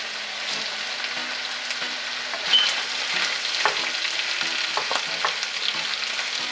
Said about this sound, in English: Time to add the onion.